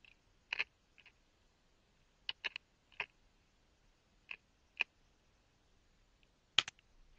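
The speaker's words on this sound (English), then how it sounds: "You do not want to eat when making a walkthrough, because let's just say it'll sound like this." Eating noises picked up on a microphone while recording a game walkthrough: sparse, sharp crunchy clicks and smacks, some single and some in quick pairs, spaced irregularly over quiet background with no talking.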